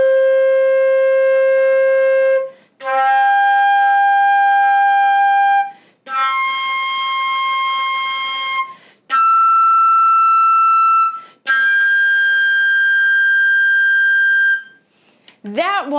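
A flute plays a series of sustained harmonic notes climbing to a high G, each tone held several seconds with short breaks between, clear and close, no talking.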